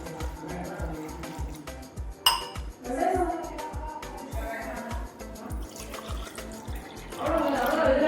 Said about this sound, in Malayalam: രണ്ട് ഗ്ലാസ് വെള്ളം ഒഴിച്ചാണ് വേവിക്കാൻ വയ്ക്കുന്നത്